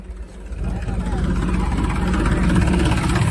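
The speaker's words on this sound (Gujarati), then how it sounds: "આમ જોઈ શકો છો ટ્રેક્ટર લઈને આવી ગયો છે" A tractor engine running close by on the way to a grain market, a steady mid-pitched idling drone that swells slightly after a quiet start, while someone talks over it.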